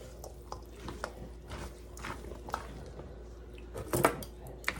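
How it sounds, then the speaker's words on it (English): A spatula works through a spaghetti salad in a bowl, giving soft scraping, wet squishing and light clinks against the dish at irregular intervals, faint and close, with a sharper clatter near the end. "now we're going to get it stirred up in there"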